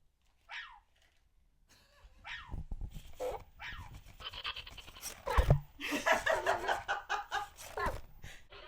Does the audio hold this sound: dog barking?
yes